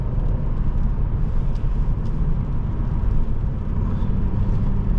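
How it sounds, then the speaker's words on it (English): A 2015 Mercedes-Benz E350 4MATIC accelerating at full throttle, a loud, steady engine roar and road rumble heard from inside the cabin, sustained for the whole stretch without letting up. "Opening up with full throttle"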